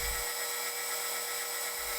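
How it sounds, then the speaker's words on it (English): A center drill starts a hole in steel with a continuous broadband machining whine, steady and close, and a low rumble at the start and end. "Always start with a center drill. That starts the hole in the right place."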